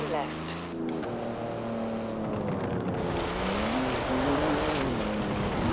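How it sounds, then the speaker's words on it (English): Porsche engine in Forza Horizon 4 drones steadily and loudly throughout, its pitch rising and falling with gear changes, with a brief squeal or swish near the start and talk layered over parts of the drive. "Man, I love driving this Porsche."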